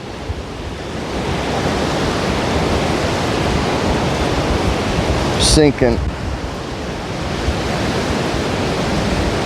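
Strong storm wind roars steadily at a coast during a 70 mph high-wind storm, with heavy surf blending into a loud, continuous broadband rush; a person speaks briefly midway over the wind.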